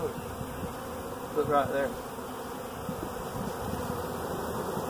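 Honey bees buzz steadily around a beehive, a dense continuous hum with single bees droning past close by, while a person speaks briefly.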